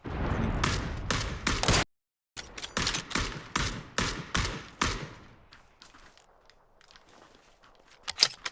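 Rapid bursts of gunfire in the battle royale video game PUBG, loud close volleys of automatic shots with a brief gap, then fading to quieter distant shots and a final sharp report.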